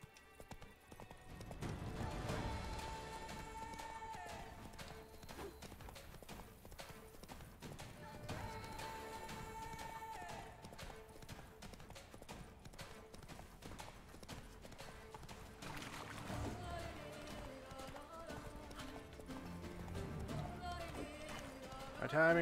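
Roach, the horse in the video game Witcher 3, gallops with a rapid, steady clip-clop of hooves over a backing of game music, and a whinny rises at one point.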